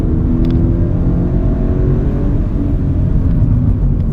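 A Toyota GT86 descending a hill on the Genting hill climb, changing down from fourth to third gear into a corner: a steady, loud engine drone and rumble heard from inside the car.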